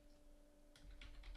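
A computer keyboard is typed on in a quiet room, with a short burst of soft, faint key clicks after a brief pause.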